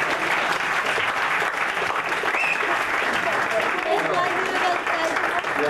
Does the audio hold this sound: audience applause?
yes